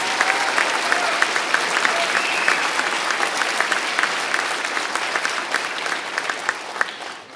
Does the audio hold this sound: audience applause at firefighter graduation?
yes